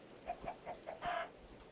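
A hidden chicken in a video game gives a quick run of four or five clipped clucks, then one longer, louder squawk, with no voices.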